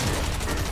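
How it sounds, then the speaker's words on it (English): Dense gunfire in Fortnite as the player takes hits from behind, a steady loud rattle of shots packed tightly through the whole short moment with no pauses. "Oh, I get shot in my back."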